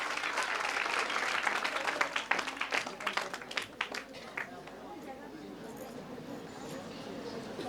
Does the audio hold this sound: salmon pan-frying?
no